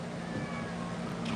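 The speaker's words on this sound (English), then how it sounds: "Where's the cat? There he is." A house cat meows indoors, a fairly quiet, drawn-out tonal cry over a low background hum, heard alone without talking.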